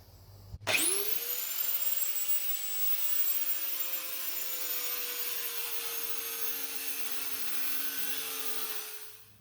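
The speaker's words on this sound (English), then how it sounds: "I could remove most of the material between the 4 holes using a grinder with a cutting wheel" An angle grinder with a cutting wheel spins up with a sharp rising whine, then bites into metal with a loud, steady high-pitched grinding screech that holds for several seconds before winding down.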